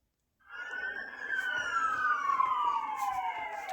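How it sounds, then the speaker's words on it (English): A police siren wails in the background, one long tone sliding slowly downward, steady and moderately distant with no talk over it. "All along, the siren in the background."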